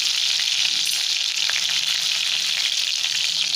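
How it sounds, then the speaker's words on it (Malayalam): Crushed garlic hits hot oil with popped mustard seeds, a loud, steady, close sizzle of frying that holds unbroken throughout with no voices. "കടുകെല്ലാം പൊട്ടി വന്നിട്ടുണ്ട് ഇതിലേക്ക് ചതച്ച് വെച്ചിരിക്കുന്ന വെളുത്തുള്ളി ചേർത്ത് കൊടുക്കാം"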